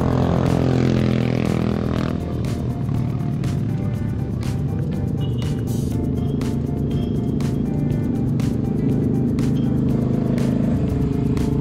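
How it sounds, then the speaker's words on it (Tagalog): Many motorcycles pass during a group ride, a continuous loud engine drone with shifting pitch and steady rumble, heard close by throughout with no talk. "Dumagsa na mga motor."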